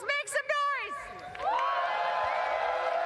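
A crowd at a playoff event breaks into loud, sustained cheering and whooping, rising from a few shouts into a continuous roar that carries on to the end.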